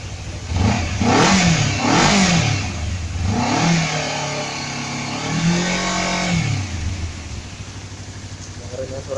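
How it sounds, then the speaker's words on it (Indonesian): Honda CBR motorcycle exhaust revving up several times in quick blips, a loud close engine note rising and falling, then settling into a steadier rev. "suara knalpotnya kita dengerin"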